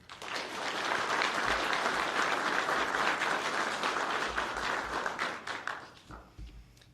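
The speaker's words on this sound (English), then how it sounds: "If we can give a round of applause for all our families and friends at home" Graduates and guests at an academy class graduation ceremony give a thick, loud round of applause that builds quickly, holds steady, then thins into scattered claps near the end.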